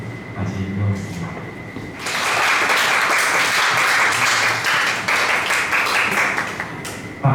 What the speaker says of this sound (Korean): 여러분들 박수로 선선철님까지 이어가겠습니다.